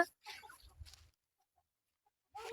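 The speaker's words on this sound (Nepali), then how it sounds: "यति धेरै कुखुरा छ।" A few soft clucks from chickens, heard faintly and close by, broken up by stretches of near silence.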